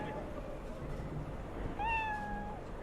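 A cat in Cyberpunk 2077 gives one clear rising-then-falling meow near the end, over a low in-game ambient rumble and murmur of voices.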